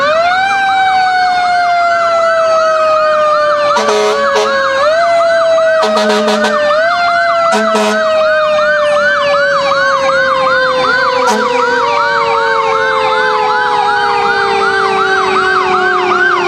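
Loud fire truck sirens wail continuously nearby at a Christmas parade in Lockhart, overlapping and rising and falling, with short blasts of an air horn cutting in several times.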